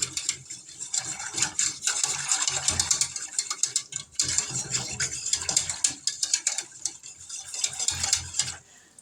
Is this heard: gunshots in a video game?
no